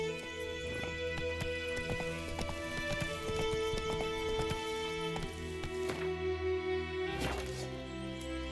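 Roach, a horse in the video game The Witcher 3, gallops with rapid, rhythmic hoofbeat clip-clops over a sustained musical drone, with a brief whinny and some heavier thumps near the end.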